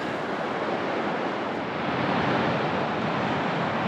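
Strong wind at a coastal clifftop roaring as a steady, broad rush with buffeting, mixed with distant surf, loud and continuous with no talk.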